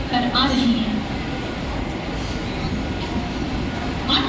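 A Mumbai local train bound for Kalyan arriving at platform 1 of a railway station at night, a continuous broad rumble of wheels and carriages with station noise and a faint squeal at the ends.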